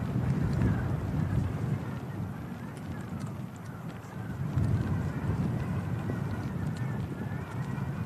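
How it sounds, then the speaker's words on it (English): Strong wind gusts around the open air at Manchester Airport, a loud, continuous roar buffeting the microphone with rising and falling surges throughout. "can really hear that wind gusting around."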